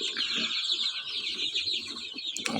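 Chickens and young chicks in a henhouse keep up a continuous high chorus of peeping and clucking, close and steady, with a brief clatter at the end.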